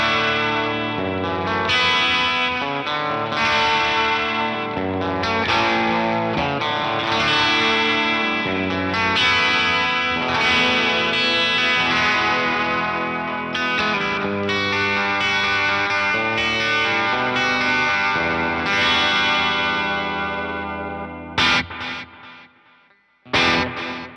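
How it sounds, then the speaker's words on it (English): Electric guitar played through a pedalboard with quarter-note and dotted-eighth delays running together plus compression, giving dense, sustained chords and repeating echoes that fill the mix, loud and continuous before cutting off near the end. "So here's both of the delays together"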